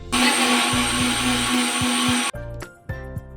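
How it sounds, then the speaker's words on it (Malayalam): A mixer grinder grinds onion with chilli, turmeric and coriander powders in a loud, steady high whir for about two seconds, then cuts off, followed by a few short clattering knocks of the jar. "മുളക് പൊടിയും മഞ്ഞൾപ്പൊടിയും മല്ലിപ്പൊടിയൊക്കെ ചേർത്ത് കൊടുത്തിട്ട് വീണ്ടും അരച്ചെടുക്കുന്നുണ്ട്"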